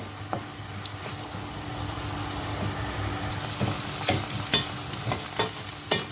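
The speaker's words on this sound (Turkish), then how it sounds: "Soğanlarımız güzelce sotelendi" Onions sautéing with beef suet in a pan for Turkish kale dish, a steady close sizzle with scattered scrapes and taps of a spoon stirring through it.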